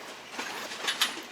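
A passenger train rolls along on the ride to Ella, Sri Lanka, giving a steady low rumble with faint rhythmic clacks and a few brief higher squeals, heard from inside and without talking.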